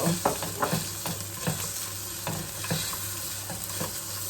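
Onion and ginger fry in a pot, with a continuous sizzle under repeated rhythmic stirring strokes and light scrapes of the spoon against the pot.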